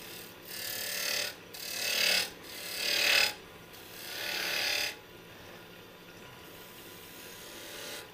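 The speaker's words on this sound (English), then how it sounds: "I'm going to go ahead and sand it up" Sandpaper working a spinning turned wooden lidded box on a lathe, heard as four loud, raspy hissing passes of about a second each, separated by short breaks, before fading to a quieter steady hum of the lathe.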